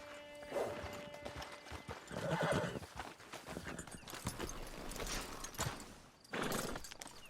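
Horse hooves clopping and a whinny in the video game Red Dead Redemption 2, the steady hoofbeats close and mid-loud over a soft game backdrop, the neigh rising near the start and again toward the end.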